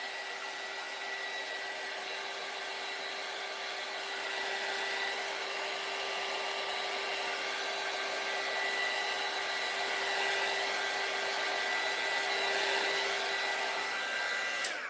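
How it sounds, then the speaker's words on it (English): A heat gun blows steadily on a craft piece made from a shipping bag, a continuous close whooshing roar with a faint whine, unbroken and alone for about fifteen seconds. "So let's just hit it with the heat gun."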